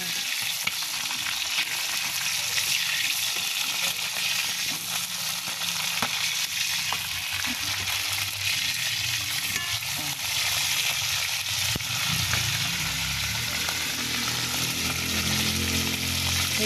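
Fish frying in hot cooking oil, a steady close crackling sizzle that runs unbroken, with occasional clinks and stirring.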